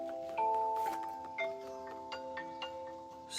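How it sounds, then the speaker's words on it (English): A phone alarm chimes in a quiet outdoor porch setting, a few bright sustained tones repeating in a short melodic pattern, fairly faint against soft background ambience. "That was my alarm."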